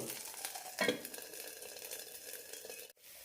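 Thick bun dosa batter cooking in a covered pan over a low flame, a steady soft sizzle and frying crackle throughout with a faint clink partway through.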